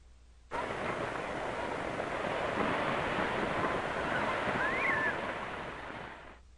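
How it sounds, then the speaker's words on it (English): Ocean waves washing onto a beach, added as a sound effect, form a steady, full rush of surf that swells in gently, holds at an even level and fades out at the end, with no voices. "you now have the beach sounds, beach noises on that little video clip"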